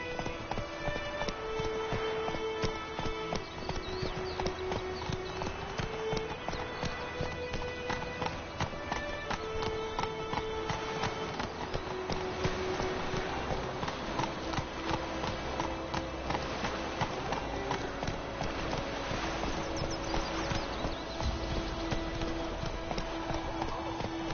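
Roach the horse galloping in The Witcher 3 video game, steady rhythmic hoofbeats running throughout under game music, with occasional speech.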